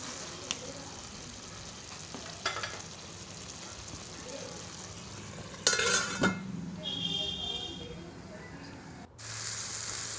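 A fish-head and bottle gourd curry sizzles softly in a pan as a spoon stirs it, scraping and clinking against the metal in a few irregular bursts, with a faint hiss continuing underneath.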